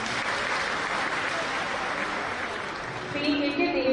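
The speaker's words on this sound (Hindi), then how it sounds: "आपकी तालियां भरपूर बजनी चाहिए।" Audience applause at a ceremony for top-ranking school students, steady and dense crowd clapping throughout, with a tone or music creeping in near the end.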